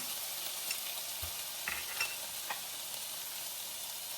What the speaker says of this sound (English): Put the ginger in